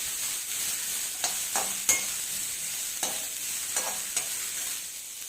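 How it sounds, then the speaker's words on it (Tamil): Onions sauté in hot oil with fennel and curry leaves, giving a soft, steady sizzle broken by a few light clinks and scrapes of stirring. "இது அவ்வளோத்தையும் நல்லா வதக்கிக்கோங்க."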